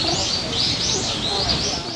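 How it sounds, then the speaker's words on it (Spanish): Small birds chirp and trill in a Japanese garden in Nara near a tea ceremony house, their high twittering calls running continuously over a busy background of people talking. "Qué bonito se escuchan todos los pajaritos."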